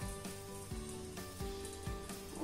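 A khichdi-stuffed paratha sizzles on a hot tawa after being flipped, a steady crackling fry with a few soft shifts and taps in the pan, close and moderately loud.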